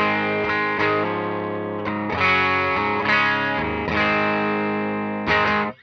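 Electric guitar with big, aggressive humbuckers is played through two amps at once, one slightly distorted and one clean, giving a sparkly top end. Sustained chords ring out alone, changing roughly every second, with a final strum cut short.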